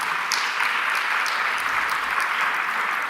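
Sustained applause from a Christian church audience after a testimony, dense and even clapping throughout without a break.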